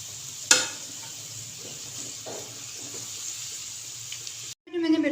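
Onions frying brown in a pan for vegetable korma give a steady soft sizzle throughout, with a sharp clatter early on and a closing burst of louder stirring or voice.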